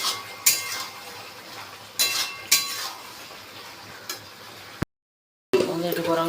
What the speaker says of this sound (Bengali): এবার এগুলো দিয়ে ভালো করে কষে নিচ্ছি